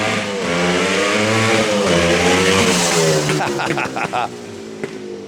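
A red 125 motorcycle engine starts off and revs loudly up close, its pitch climbing through several gear changes before the throttle chops near the end, with voices faintly around it.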